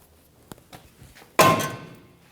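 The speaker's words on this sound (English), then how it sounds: "when I smash the rotor from the backside, the rotor doesn't come flying off and across the room" A hammer strikes the back of a front brake rotor on a 2017-2020 Hyundai Elantra: a few light knocks, then one loud metallic blow that rings out and fades, with no voices.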